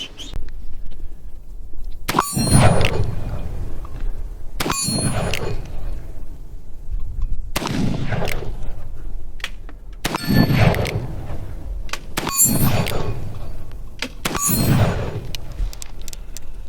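Six sharp, loud shots from an Uberti Remington New Model Army cap-and-ball revolver, spaced about two seconds apart, each followed by a ringing, clanging tail.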